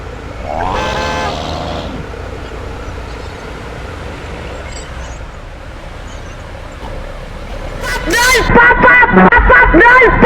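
A bus horn honks briefly near the start in a bus driving video game, then a noisy hum of engine and traffic continues, with loud talking at the end.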